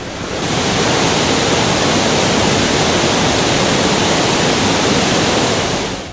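The Nivali waterfall in Ratnagiri, swollen by fresh monsoon rain, pours in a loud, steady roar of rushing water with no voices.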